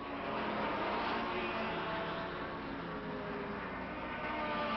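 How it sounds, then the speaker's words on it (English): Several 1957 Formula 1 race cars, Maserati, Vanwall and Cooper, passing at the German Grand Prix across the Adenauer Bridge, a dense continuous engine roar that stays loud and steady throughout with no talk. "Private Maseratis lead Cooper and Porsche down across the Adenauer Bridge"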